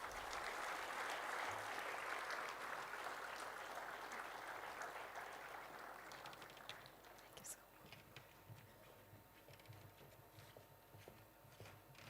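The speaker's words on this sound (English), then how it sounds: "I request all the audience to please follow their steps with a huge round of applause" Audience applause at a university orientation ceremony in Bengaluru as guests are invited onto the dais: a broad, loud wash of clapping that gradually fades over the following seconds to a quieter room with scattered claps.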